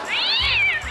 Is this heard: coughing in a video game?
no